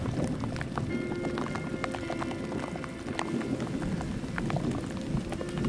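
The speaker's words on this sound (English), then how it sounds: "Looks like we could get rained on here now." Rain patters steadily on a mountainside in Canada's Yukon during a Dall's sheep hunt, with a dense continuous hiss and scattered drips and taps close by.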